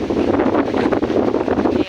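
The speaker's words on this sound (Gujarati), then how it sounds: "બધાને વરસાદ રહી ગયો છે અને ફૂલ પવન આવે છે" Strong wind gusts across a village farm after rain, buffeting close and loud as continuous roaring rushes that swell and dip over the whole stretch.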